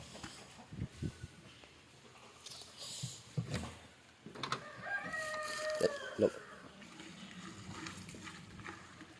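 Chickens cluck and a rooster calls at a middle distance, with scattered bursts among quiet background noise and some faint talking.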